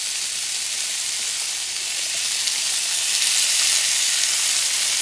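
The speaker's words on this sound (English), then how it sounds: "And I'm going to saute them briefly." Beef cubes sauté in oil in a hot pan, giving a loud, steady, close sizzle that holds evenly throughout with no talking.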